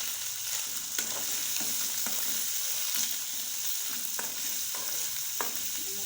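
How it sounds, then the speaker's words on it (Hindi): Chicken and spices sizzling in hot oil in a pan, a steady close hiss with occasional stirring scrapes and light taps throughout, no voices. "तमाम चीज़ों को भून लेंगे इसमें।"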